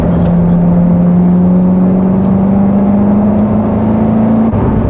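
A naturally aspirated Corvette C7 Z51 engine drones steadily and loud, its pitch slowly climbing as it revs, with whirring road noise throughout.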